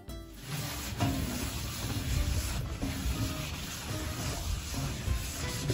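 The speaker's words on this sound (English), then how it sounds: "just cleaning it off, getting all the oil, excess oil off of it" Cloth rubbing and wiping excess oil off a seasoned disco pan used for pollo al disco, a steady close scraping and rubbing that runs unbroken.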